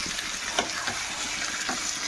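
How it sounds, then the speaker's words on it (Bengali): Chicken being stirred while frying in a pan, a close, steady sizzle with soft scraping strokes of the spoon every half second or so, no talk. "একটু ভালো করে নেড়ে নিচ্ছে।"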